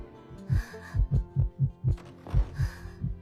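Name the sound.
anxious heartbeat sound effect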